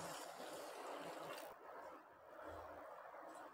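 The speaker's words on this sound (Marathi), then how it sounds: "तर अशा प्रकारे छान 2 पाण्याने धुवून घेऊ आपण" Water sloshes and trickles steadily as buckwheat and sago are rinsed in a bowl, a faint continuous swishing that dips briefly midway before resuming, close by with no voices.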